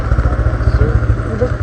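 A motorcycle engine chugs with a rapid, regular low-pitched pulse on a blocked mountain road in monsoon rain, close and steady.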